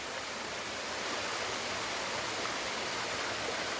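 Clear mountain water streaming down from the hills at Jata Shankar near Girnar Taleti, a steady, loud, broadband rush of flowing water with no breaks and no voices.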